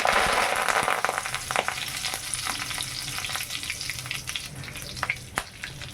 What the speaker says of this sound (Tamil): இப்போ நம்ம வந்து ஃப்ரெஷ்ஷான கருவேப்பிலை இது போட்டுக்கிறோம்